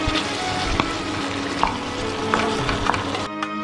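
Prawns for kabsa fry and are stirred in a hot pan, giving a loud, continuous sizzle with a few scraping clicks before it cuts off abruptly, with no voices.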